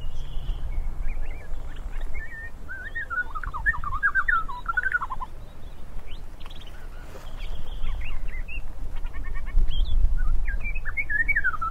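A large, strikingly marked warbler in southern Africa sings a rich, warbled song of quick tumbling phrases, fairly close and repeated over steady low wind or ambient rumble, with no speech.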